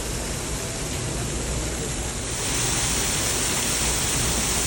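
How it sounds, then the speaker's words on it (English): A garden waterfall at Cedar Lake Woods pours steadily, a dense hiss of falling water that grows slightly louder partway through, with no voices. "With this gorgeous waterfall."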